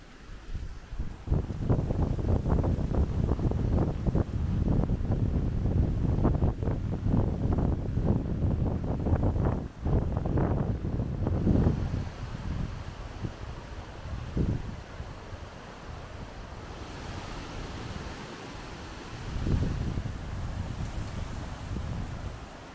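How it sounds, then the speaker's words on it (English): Strong gusty wind buffets the microphone during a walk along the banks of Lochalsh near Plockton in the Scottish Highlands, a loud continuous roar for most of the stretch, easing into softer, calmer gusts toward the end. "It was pretty windy during our walk, as you can hear."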